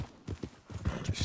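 Horse hooves clip-clop in Red Dead Redemption 2, a quick irregular series of soft thuds close by and fairly quiet, with a faint breathy sound near the end.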